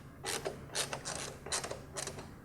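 Screws being removed from a 2015-2018 Dodge Charger LED light panel with a T15 bit: quiet close mechanical clicks and ratcheting in several short bursts.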